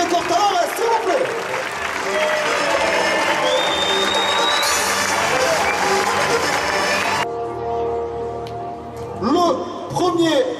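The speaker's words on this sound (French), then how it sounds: "un tonnerre d'applaudissements pour nos 4 Libertadores, s'il vous plaît" A crowd in the Arles arena at an international recortadores contest final applauds and cheers loudly and continuously, with an announcer's voice over it.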